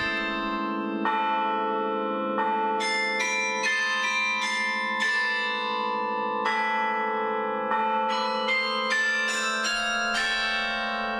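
Carillon bells of St. Catherine's Church in Gdańsk, a 50-bell carillon, ring out a melodic sequence of bright, overlapping tones over a sustained low hum, each strike lingering and blending into the next.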